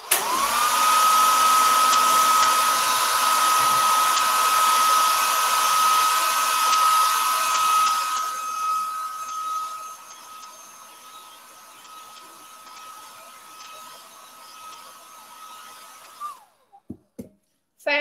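A hair dryer blow-drying a damask silk-stencil fabric transfer decoupage gives a loud, steady whining hum that softens partway through, then cuts off near the end, followed by a few light clicks.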